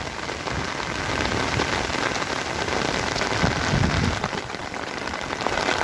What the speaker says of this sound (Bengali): বিস্তীর্ণ জল মানে পতিত জমিতে কিংবা আবাদি জমিতে আজকে বৃষ্টির সুন্দর সুবাতাস বইছে